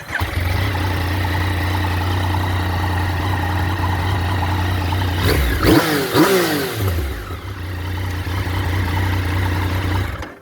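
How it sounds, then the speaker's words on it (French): A Yamaha MT-09 SP motorcycle engine runs at a steady, loud idle up close, with a brief rev burst midway before settling back, then cuts off at the end. "je vais vous la démarrer"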